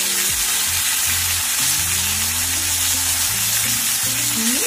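Ridge gourd with turmeric and sugar sizzling in a pan for a Bengali vegetarian mixed-vegetable curry, a steady hiss under loud music with no talking.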